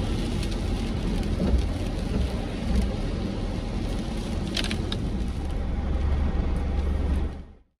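A full-on rainy day in Eureka, Humboldt County, on the Pacific Northwest coast: dense, even rain patter and hiss goes on throughout with a low rumble underneath, then cuts off abruptly at the end. There is no speech.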